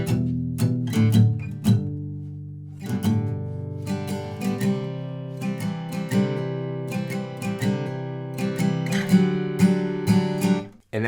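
Acoustic guitar playing the verse of a song, steady rhythmic strumming of open chords with crisp strokes and ringing sustain, played close with no voices.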